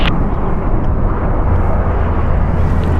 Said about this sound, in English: Departing here is American Airlines Flight 1448, going to Orlando, Airbus A321